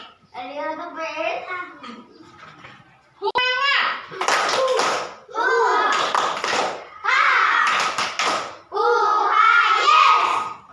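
A class of young pupils repeats the 'tepuk semangat' chant, loud group voices dominating with patterned hand claps bursting through in short rhythmic clusters between the shouted lines.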